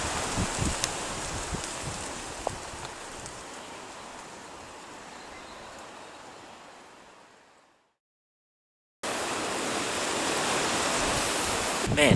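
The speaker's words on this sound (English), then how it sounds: "it's pretty windy and stuff at the moment" Strong wind blows outdoors in open country, a dense rushing roar against the microphone that fades out to silence midway and then returns at full strength.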